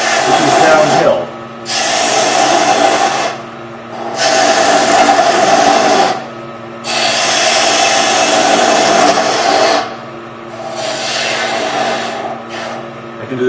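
A gouge cuts a wooden bowl on the lathe from the outside toward the center, producing four loud, sustained shearing passes separated by short gaps, heard close over the lathe's hum.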